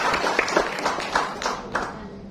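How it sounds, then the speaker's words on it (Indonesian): Audience clapping at a health product seminar, a modest burst of applause heard at some distance and moderately faint for a couple of seconds. "Tepuk tangan dulu biar enak."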